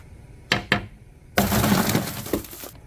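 Duct-taped car window glass takes two sharp knocks, then breaks out with a loud, sustained crunching shatter of fragments close by.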